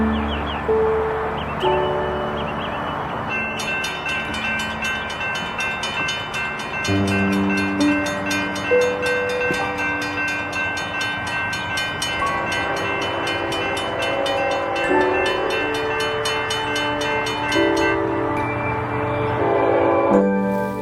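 Train rumbles through a railroad crossing with a loud, sustained horn and ringing crossing bells, wheels clattering steadily close by throughout.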